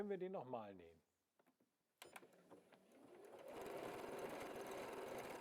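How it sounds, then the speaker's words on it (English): A W6 N 9500C QPL sewing machine runs a satin stitch pattern, building into a steady, close mechanical whir after a brief pause. A voice speaks first. "Now let's sew this pattern."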